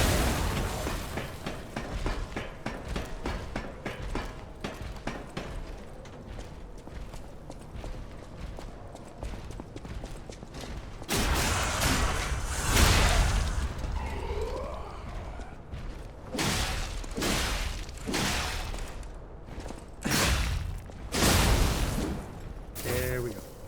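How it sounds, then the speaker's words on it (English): Exploding puppets in the video game Lies of P, heavy dense bursts and booms over busy clattering action sounds, several loud blasts clustered in the second half, all sharp and close. "it's full of exploding puppets"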